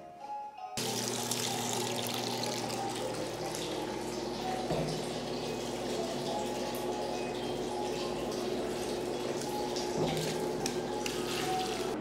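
Hot water pours steadily into a baby bathtub, a continuous rushing hiss and splash that begins abruptly after a short quiet moment and keeps going evenly at moderate, close volume.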